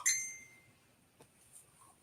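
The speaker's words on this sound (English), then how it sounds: "I know that's not you blowing up my damn phone." A phone notification chime rings out once near the start, bright and clear with a ringing tone that slowly fades, followed by a couple of faint clicks in an otherwise quiet room.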